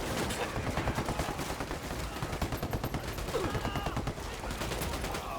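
Dense, continuous gunfire from the video game Ghost Recon Wildlands, a steady rattle of rapid automatic shots with sharp cracks throughout, loud and close.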